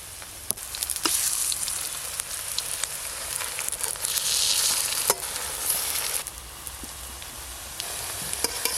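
Poppy seed fritters (posto bora) sizzle steadily in hot oil, a dense, continuous crackle close up with scattered sharper pops and a brief louder surge midway, with no talking.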